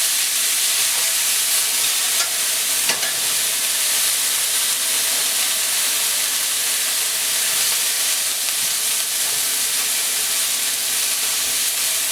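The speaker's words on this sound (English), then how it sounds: "We're going to just fry them a couple minutes and then they'll be good." Vegetables fry in a hot pan with a constant loud sizzle and hiss close by, with occasional stirring clicks and no talking.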